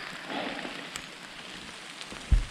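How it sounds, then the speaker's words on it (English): Steady rain patters on and around a pine tree sheltering campers on a cold night in the mountain wilderness, a close, even hiss with a soft thump near the end. "We are currently huddled underneath the pine tree, hoping this rain will pass"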